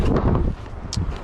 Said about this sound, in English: it is extremely windy